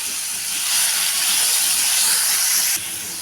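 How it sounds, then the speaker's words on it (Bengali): Chicken pieces frying in hot oil in a pan, a loud, close burst of hissing sizzle that swells and holds, then suddenly drops lower near the end. "চিকেনটাকে আমি একটু ভেজে নিলাম"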